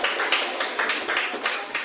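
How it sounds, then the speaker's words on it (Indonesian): A classroom group claps after a student presentation, with quick, even, moderately loud applause from a small crowd close by, lasting only a couple of seconds. "Ya, tepuk tangan."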